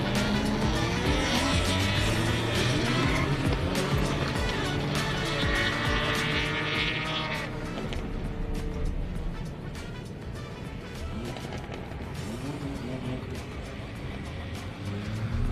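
Drift cars roar around the Manfeild circuit during a DriftWars competition day, engines loud and sustained throughout with a slight drop in level midway, some tyre noise, and commentary voices mixed in underneath.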